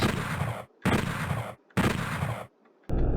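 Rapid bursts of gunfire from the video game Doom 64, three long loud volleys separated by short pauses, followed by a sharp shot at the end, with no talking.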